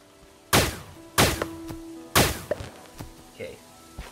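Gunfire in the video game Starbound, with three sharp loud shots each trailing off in a short ring, followed by a few softer thuds.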